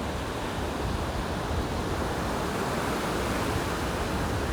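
Surf rolls in at Rosarito Beach, Mexico, a dense, steady wash of breaking waves with no distinct individual crashes, constant and fairly close.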